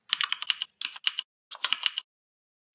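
Rapid bursts of computer keyboard keystrokes while HTML and CSS code for a registration form is typed, clattering in short clustered runs separated by brief pauses, close and clear with no talk.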